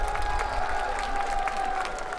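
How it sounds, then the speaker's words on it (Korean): Audience applause and cheering fill an outdoor peace concert in Goseong after a K-pop stage. The clapping is steady and dense for the whole stretch, with a sustained tone running beneath it. "박수 한번 크게 전해주시기 바랍니다."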